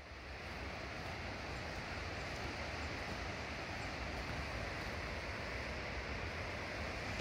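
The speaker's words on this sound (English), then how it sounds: "you can probably hear the waterfall here at Lost Creek in the background" Continuous broadband rush of a waterfall at Lost Creek swollen after heavy rain, a steady distant roar in the background with no voices.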